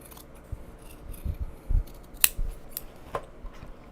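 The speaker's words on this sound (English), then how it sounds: "Just need to trim everything up a little bit around the edge here." Scissors trimming the edges of Japanese fabric bags, several crisp snips at uneven intervals close by, soft and quiet against a faint room background, with no talking.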